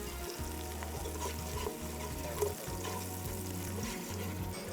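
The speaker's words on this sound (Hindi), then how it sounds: "प्याज तो हो रही है ब्राउन" Onions frying and browning in a pan for a coconut egg halwa recipe, giving a steady close sizzle with soft stirring sounds underneath and no talk.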